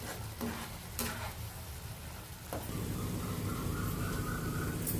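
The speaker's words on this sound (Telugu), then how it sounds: "ఇదంతా కొంచెం బాగా ఆయిల్ బయటకు వచ్చే వరకు ఫ్రై చేసుకుందాం." Spice masala with coriander powder fries in oil for a fish curry, a soft steady sizzle with a couple of sharp spoon taps early on and a fuller, brighter crackle after midway.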